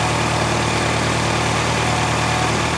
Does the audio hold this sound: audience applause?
no